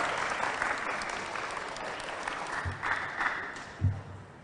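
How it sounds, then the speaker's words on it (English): Audience applause at a school debate between CPS and CSMA teams, steady broadband clapping throughout, with a few louder bumps and faint voices near the end. "Can you please join me to give a big round of applause again for this."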